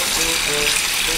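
Water gushes from a bathroom wall tap near the door, knocked open by accident, making a steady, loud broadband rush that fills the whole moment, with a voice faintly beneath it.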